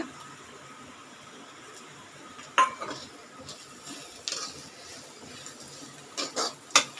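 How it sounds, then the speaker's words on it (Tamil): Chopped onions and grated coconut fry in a pan with a soft, steady sizzle, broken by several sharp scrapes and clinks of a spoon stirring against the metal, some louder than others. "இப்போ இது நல்லா ஃப்ரை ஆகிடுதுங்க"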